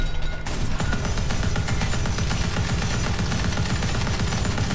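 Anti-air gun in the War Thunder video game firing shells at a Ju-87 aircraft, a dense rapid stream of loud booming shots running continuously without pause.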